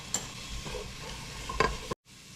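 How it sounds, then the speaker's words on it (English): Ingredients for a tomato honey chicken and pasta dish sizzle in a pan while a utensil stirs them, with a steady close fry, a couple of sharp scraping strokes, then a brief cut to quieter sizzling. "We're gonna stir that until it gets fragrant."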